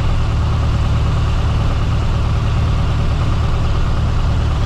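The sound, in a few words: small aircraft piston engine running after clearing runway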